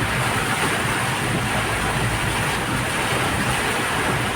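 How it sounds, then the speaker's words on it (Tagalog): Heavy rain pours down in Antipolo, Philippines, in a constant, dense hiss, steady and loud throughout with no other sounds standing out. "dahil napakalakas ang ulan"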